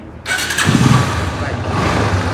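A used motorbike offered for sale fires up with a sudden burst and settles into a steady, rough idle, loud and close, with a voice talking over it.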